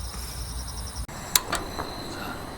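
Insects chirping at a night campsite in autumn, a steady high-pitched trill running through the whole stretch with a few sharper clicks and rustles partway through, quiet and close.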